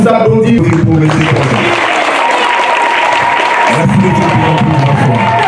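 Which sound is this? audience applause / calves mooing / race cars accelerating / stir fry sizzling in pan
audience applause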